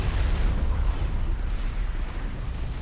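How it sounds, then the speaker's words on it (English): Mobile missile launchers fire on shields in Supreme Commander 2, a dense continuous barrage of rumbling booms and crackling blasts with no clear gaps, heavy and loud throughout. "Here comes the mobile missile launchers on the left. They are just eating through the shields."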